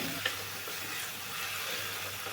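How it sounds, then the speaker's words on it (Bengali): Potatoes frying with spices in a pan for a Bengali silver carp fish curry, a soft continuous sizzle with light stirring scrapes and a small clink near the start, fairly faint. "আলুটাকে খুব ভালো করে নাড়াচাড়া করে কষিয়ে নিচ্ছি অল্প আছে মশলার সঙ্গে"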